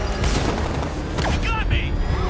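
Gunfire in Batman Arkham Knight, a dense burst of shots with booming hits over a steady loud combat din, with voices shouting in the mix.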